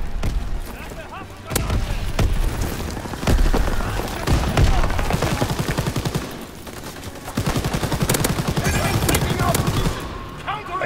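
Gunfire in Call of Duty: WWII multiplayer, with rapid bursts and single shots cracking nearly continuously and loud throughout, mixed with heavier booms and game effects.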